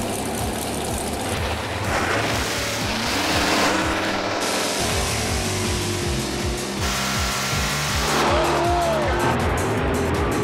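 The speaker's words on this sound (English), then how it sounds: "in a 71 Mustang small block 351 Cleveland." A 1971 Ford Mustang with a 351 Cleveland small block V8 races at a drag strip, its engine roaring loud and close through rising revs and gear changes. Tires squeal and other cars pass, and a voice briefly cuts through.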